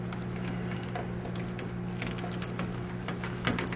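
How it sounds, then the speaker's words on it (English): Churro dough is stirred in a pot over medium-low heat, with repeated soft scraping and thick, sticky knocks of the spoon against the pot over a constant stovetop hum. "Begin to stir everything together."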